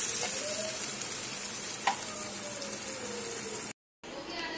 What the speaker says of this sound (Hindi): अब इसको पकाएंगे और फिर तैयार होगा शावरमा